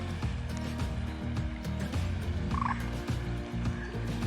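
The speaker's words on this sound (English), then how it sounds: "Usual gang of Canada geese. Someone's just fed them, they're everywhere." Dense, continuous honking and gabbling from a large flock of Canada geese nearby in a park, many birds calling over one another without a break.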